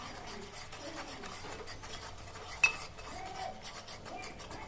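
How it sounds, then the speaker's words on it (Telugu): Ginger garlic paste frying with onion paste in hot oil for Telangana-style fish curry, giving a soft, steady sizzle with quiet stirring and scraping in the pan, plus one sharp clink partway through. "ఇప్పుడు 1 స్పూను అల్లం వెల్లుల్లి పేస్ట్ వేసి ఫ్రై చేయాలండి."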